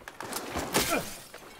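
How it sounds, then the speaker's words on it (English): Glass being smashed in a first-person shooter match, a sharp shattering crash with scattered tinkling fragments, heard briefly and moderately loud. "I can hear him smashing glass."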